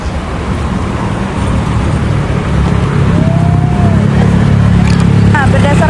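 Motor vehicle traffic passing on a road beside a sidewalk, a loud continuous low engine rumble and road noise from nearby vehicles throughout, with speech over it.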